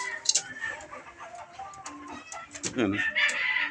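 A wounded gamecock clucks after a cockfight, giving short, close clucks and throaty calls that grow stronger toward the end, while someone talks.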